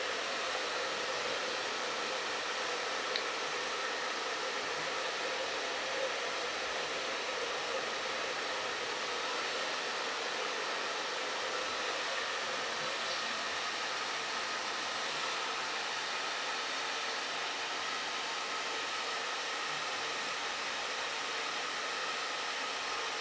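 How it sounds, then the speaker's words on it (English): Hair dryer blowing steadily on curly hair during a haircut, a continuous even airy whoosh held throughout at moderate loudness, with no talk. "If you use the hairdryer with full heat"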